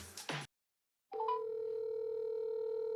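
A short burst of noise, a brief silence, then a steady electronic telephone tone that starts and holds continuously, clear and close.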